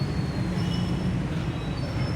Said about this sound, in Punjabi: ਜੀ ਮੈਟਰੋ ਉਹਦੇ ਚੜ ਕੇ ਆਪਾਂ ਅੱਗੇ ਬੱਸ ਸਟਾਪ ਤੇ ਜਾਣਾ